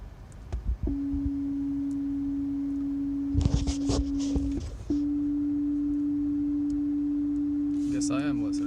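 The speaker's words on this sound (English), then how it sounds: "Sound test CD, I don't really want to listen to that." A steady electronic test tone from a sound test CD plays through a 2018 Honda Civic head unit, holding one even pitch, briefly cut by a burst of handling noise before resuming unbroken.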